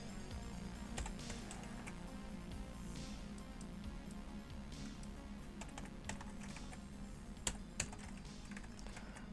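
Fast, steady typing on a computer keyboard with dense, continuous key clicks, heard close but quiet, with a few louder key strikes near the end and no talk.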